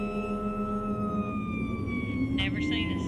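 An emergency vehicle's wailing siren sweeps steadily in pitch, fairly close and loud, with a burst of higher chirping tones near the end and traffic rumble underneath.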